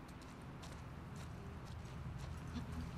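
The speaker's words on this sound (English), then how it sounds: "Oh, well, is this Tommy's horse?" Horse hooves clip-clopping in The Last of Us Part II, a steady run of soft hoof thuds over low game ambience with a faint continuous rumble, fairly close and without talk.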